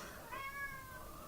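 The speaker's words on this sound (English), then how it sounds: "And that is my cat, Leo, who will make lots of appearances" A pet cat meows once, a short, faint, rising call heard alone in a quiet indoor room.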